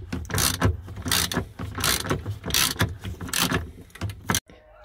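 A Torx 40 screw being turned out of the interior trim of a Renault Twingo, giving a close, repetitive ratcheting churn in regular bursts that ends abruptly.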